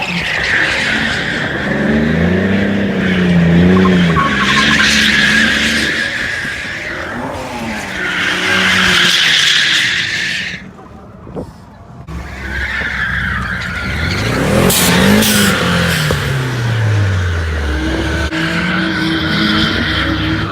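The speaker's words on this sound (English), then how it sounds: "So do the donuts, burn out to warm up the tires" Car spinning donuts and doing burnouts to warm its tires, with loud sustained tire squeal and skidding over revving engine, rising and falling in long waves with a brief lull midway.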